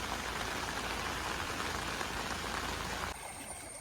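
Monsoon rain at the start of the Karkidakam month, a dense, steady hiss of downpour close by that drops slightly in level near the end, with no voices.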